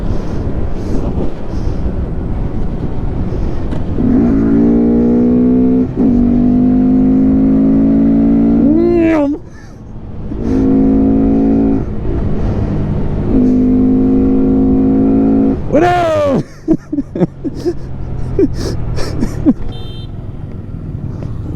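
Several Honda Grom small-displacement motorcycles race past with rising, revving engine whines in repeated bursts, loud and close, with wind buffeting the microphone and clicks near the end.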